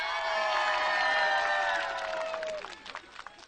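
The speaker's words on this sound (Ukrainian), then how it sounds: "Ваші оплески за Алекса." Audience at a karaoke show breaking into applause and cheering, loud dense clapping with whoops and a sustained tone that fades out near the end, trailing into scattered claps.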